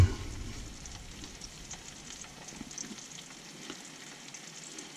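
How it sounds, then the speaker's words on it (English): Steady sizzling of trout frying in a pan, a constant crackling hiss with light pops, close and moderately loud, with no voices. "You can hear the fish is beginning to sizzle"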